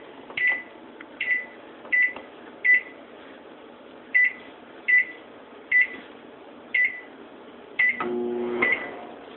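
A generic no-name microwave oven set to popcorn chirps ten short, evenly spaced beeps, then starts running with a low steady hum.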